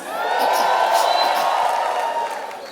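A comedy show audience cheers and whoops together in a sustained, loud swell of crowd noise that holds steady and then tapers slightly.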